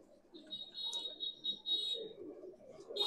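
Pigeons of several breeds, including Madrasi and Punjabi birds kept for sale, coo in soft low murmurs, while a thin high electronic tone hums steadily over them.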